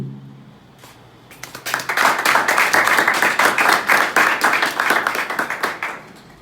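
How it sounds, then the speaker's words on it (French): Audience applause at a French corporate presentation of a management system, starting after a brief pause and swelling into steady, dense clapping from a roomful of people, fairly close, fading slightly at the end. "Et sous vos applaudissements"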